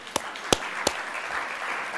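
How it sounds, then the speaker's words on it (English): An audience at an athletics Hall of Fame induction ceremony applauds the athletic department, opening with a few loud distinct claps that swell into sustained, fairly close crowd clapping. "So we can give the athletic department a round of applause."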